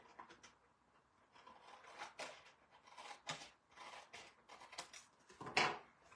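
Scissors trimming excess paper from a handmade card, a series of quiet, close snips and rasping cuts in short bursts with no talk.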